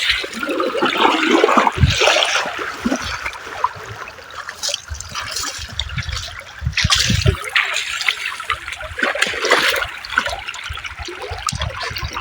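River water flowing and splashing at the Sipu river, a loud, close, continuous rushing and gurgling with bursts of splashing throughout.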